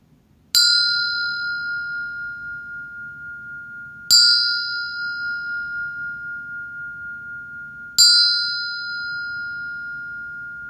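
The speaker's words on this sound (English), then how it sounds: "So with that, I'll sound this bell." A meditation bell is struck three times at even intervals, each strike a clear, bright ring that sustains and slowly fades, close up and alone over a faint low hum.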